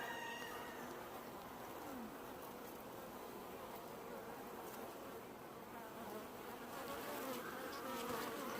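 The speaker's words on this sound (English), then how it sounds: "when you're dumping a ball of bees" Dense, continuous buzzing of a honeybee swarm, steady and close, with no talking.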